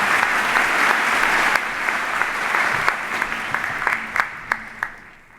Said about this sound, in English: Once more, round of applause.